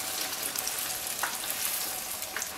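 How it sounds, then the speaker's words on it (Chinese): Youtiao dough sticks deep-frying in hot oil give a steady, dense sizzle and crackle that fills the whole moment without pause, close and fairly loud. "反复翻动油条，让油条上颜色。 喜欢吃酥脆的可以多炸一会儿"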